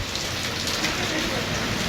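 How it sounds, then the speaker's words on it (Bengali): Steady rain pours down, a constant hiss of drops hitting surfaces that holds at the same level throughout. "বৃষ্টি ভেজা আজ আমার শহর"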